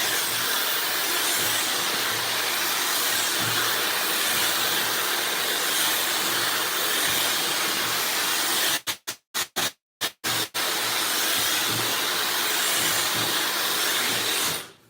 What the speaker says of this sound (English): once you go in with the blow dryer, the hair is dry